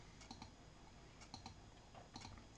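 Keys tapped on a computer keyboard while entering a short search term, three quick bursts of light clicks separated by brief pauses, close and quiet with no talking.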